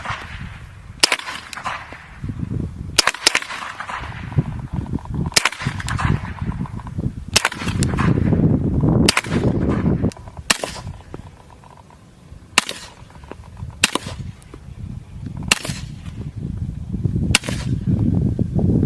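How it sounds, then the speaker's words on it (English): M9A3 pistol firing a string of sharp shots, some suppressed and some unsuppressed, with varied ammunition; about nine evenly spaced cracks ring out loud and close over a rumbling, noisy background. "So that was the M9A3, or the suppressed pistol, both suppressed and unsuppressed with different kinds of ammunition."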